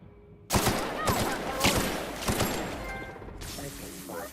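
Bursts of video game gunfire come after a short quiet start: several sharp, loud volleys in rapid succession with a fading tail. A faint voice is heard beneath them.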